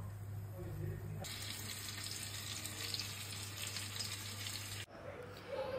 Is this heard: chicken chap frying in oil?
yes